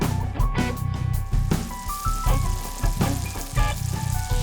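Sweet and spicy pork skewers sizzle on a Big Green Egg grill, with crackling fat and pops over a steady sizzle, close and fairly loud, with faint tonal sounds in the background.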